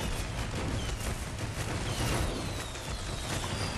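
Rapid crackling bursts and booms from a fireworks-launching weapon exploding on impact in the video game Sunset Overdrive, dense and loud throughout with no talking.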